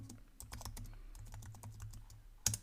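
Quick, light keystrokes on a computer keyboard type out a short word, about a dozen soft clicks in a brisk irregular run, ending in one sharper tap like Enter, quiet and close in a calm room.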